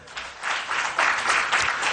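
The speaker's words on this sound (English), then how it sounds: "A round of applause for them." An audience at a public budget forum applauds a group of college students, a dense wash of clapping that swells after a quieter start and holds steady and full to the end.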